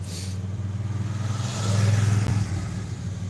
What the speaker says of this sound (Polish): jakiś motor pojechał